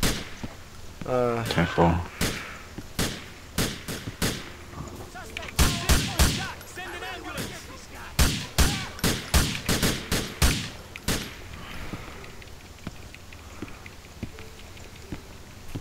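Gunshots in Grand Theft Auto IV during an LCPD police scene: a long string of loud, sharp single shots, some in quick clusters and others spaced apart, over steady background noise with radio-style speech.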